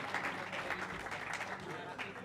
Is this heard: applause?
yes